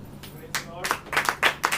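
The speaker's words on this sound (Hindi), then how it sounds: "सब जने मिलकर एक बार ताली बजाएंगे।" A church congregation claps together in a few quick, uneven bursts of hand claps that build into a short rhythmic round, heard close and moderately loud.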